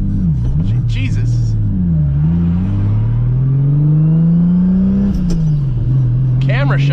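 Nissan 300ZX project car with a swapped 2JZGTE engine driving on the road, its engine droning steadily and rising and falling in pitch as it revs and shifts, loud and close from inside the car, with brief voices over it.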